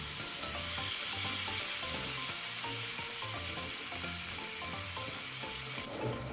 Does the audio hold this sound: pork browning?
yes